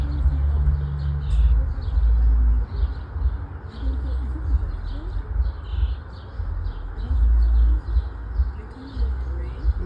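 Garden birds chirp and coo continuously around a small yard, a close, busy chorus of tweets over a low rumbling background.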